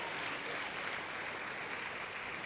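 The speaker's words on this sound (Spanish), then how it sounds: "Dale un aplauso bien fuerte al Cordero de Dios." A church congress congregation applauds loudly during a sermon, a continuous wash of crowd clapping that holds steady from start to finish without any voices on top.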